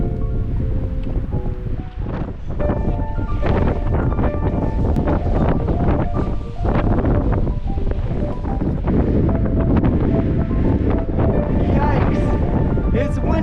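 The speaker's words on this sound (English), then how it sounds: "Yikes! It's windy!" Strong wind buffets the microphone on a crumbly sandstone cliff during multi-pitch rock climbing in Sedona, a loud constant roar with gusts layered over faint background sounds.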